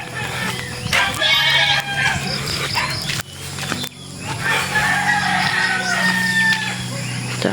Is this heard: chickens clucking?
yes